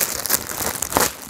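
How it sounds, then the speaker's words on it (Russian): Crinkly plastic packaging bags from a clothing parcel being unpacked, a close, loud burst of rustling and crackling with no talk. "эти супер шуршащие пакеты"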